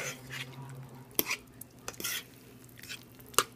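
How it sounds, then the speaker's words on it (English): Shrimp sautéing in butter in a pan, with faint sizzling under a series of sharp metal clinks and scrapes as a utensil stirs against the pan. "Just kind of saute it on in there."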